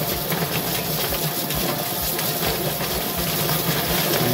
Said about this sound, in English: Bring them over to the chicken plucker,